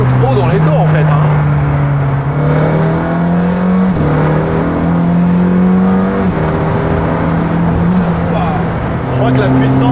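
Loud, continuous revving from a McLaren Senna's 800 hp turbo V8 climbs high and steps between gears for about ten seconds, with voices talking over the engine noise.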